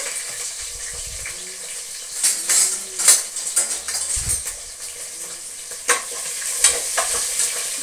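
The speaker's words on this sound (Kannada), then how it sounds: "ಫಸ್ಟ್ ಈರುಳ್ಳಿ ಹಾಗೆಯೇ ಹಸಿಮೆಣಸು ಹಾಕ್ತಾ ಇದ್ದೀನಿ. ಇದು ಫ್ರೈ ಆಗಲಿ." Chopped onion and green chillies fry in a pan for palav with a steady sizzle, while a spoon stirs and scrapes, clinking against the metal pan in irregular bursts.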